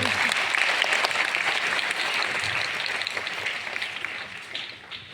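An audience at a guardian conference claps for an honoured teacher: dense, sustained applause that holds steady and then tapers off near the end.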